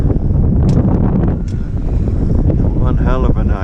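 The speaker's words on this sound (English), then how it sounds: "So it's a near gale with occasional gusts." Near-gale wind with occasional gusts roars and buffets the microphone continuously, loud and close, with a faint voice briefly heard beneath it.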